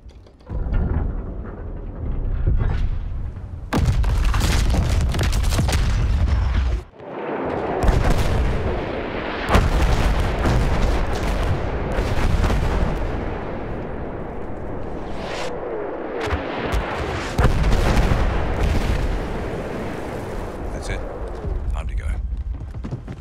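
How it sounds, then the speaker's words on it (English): Dreadnought naval guns bombard the shore in the Battlefield 1 game, heavy booming blasts and rumbling impacts repeating loudly across the battle, with voices talking at times. "We have the dreadnoughts this time. Plug your ears, kid. It's gonna be loud."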